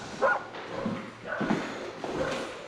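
Several dogs at a dog pound bark and whimper in three close bursts, with yips and whines blending together at moderate volume and no talk over them.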